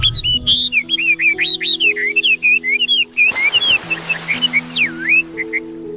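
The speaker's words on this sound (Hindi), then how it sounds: "क्या बात है टूनी चिड़िया, आज इतनी मीठी आवाज में गा रही हो?" A small bird sings sweetly in a run of bright, fluttering whistled phrases, close and clear, over a quiet low musical background.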